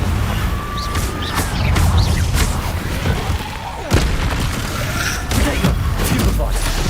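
Confringo spell blasts in Hogwarts Legacy: repeated booming impacts and crackling bursts over a busy game soundscape, with one sharper hit standing out midway.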